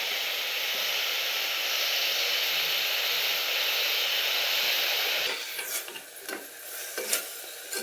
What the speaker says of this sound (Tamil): இப்போ தக்காளி சேர்க்குறேன்